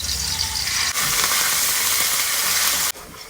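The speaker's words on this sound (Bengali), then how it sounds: "2 মিনিট ভালো করে তেলের মধ্যে মশলাটা ভেজে নিয়েছি" Loud, dense sizzling of garlic, onion and chili paste with whole cumin frying in hot oil, a continuous close hiss with a brief dip near the start and end.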